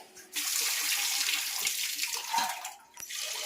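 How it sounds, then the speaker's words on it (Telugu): Basmati rice being rinsed in water at home, a steady close splashing and swishing wash with a short pause near the end, no voices. "చూసారు కదండి, ఇలా బియ్యాన్ని కడిగేసి పక్కన పెట్టేసుకుందాం."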